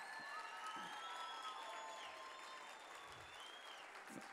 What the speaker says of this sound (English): let's give a round of applause for the players